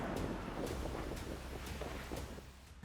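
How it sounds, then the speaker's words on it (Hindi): Typhoon Doksuri lashes the coast with strong wind and heavy rain, a dense, continuous roar of gusts and downpour with buffeting noise on the microphone throughout. "तब हवा की रफ्तार और बारिश की ताकत कुछ ऐसी थी"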